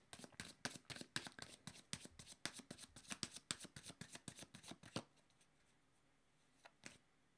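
A deck of tarot cards handled during a reading, a quick riffle of crisp, rapid flicks for about five seconds, then quiet with a single faint snap, close and soft.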